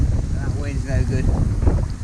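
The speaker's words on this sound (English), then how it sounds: "That wind's no good." Gusty wind buffets the microphone on an outdoor waterside spot while whip fishing with a float, a steady low rumble with faint background sounds and no talk over it.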